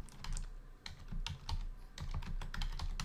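Quick bursts of computer keyboard typing as a material name is entered, light clustered keystrokes in short runs with brief pauses, close and fairly quiet, with no talking.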